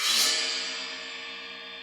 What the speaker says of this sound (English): Another way we can play these cymbals is to scrape them together.